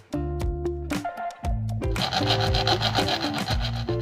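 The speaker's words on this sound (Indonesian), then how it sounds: "diukur dan dipotong ya dengan menggunakan gergaji besi" A hacksaw rasps back and forth in quick, even strokes, loud and close, with harsh scraping tones.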